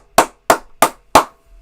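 Four sharp, evenly spaced claps from a stream redeem sound effect, loud and close, each a crisp broadband smack with quick decay, with no talk over them.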